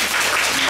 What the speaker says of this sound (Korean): 이 순간 박수 한번